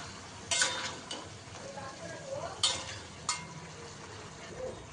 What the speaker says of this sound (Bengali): আর এটা ভালো করে কষাবো আমি, যতক্ষণ না মাংসটা সেদ্ধ হচ্ছে আর জলটা না শুকিয়ে যাচ্ছে